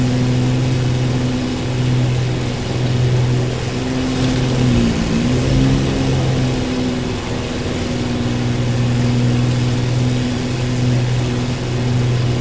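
Ferrari Enzo supercar engine in The Crew, a loud steady drone that holds a constant pitch, dips briefly midway, then settles back into the same sustained note.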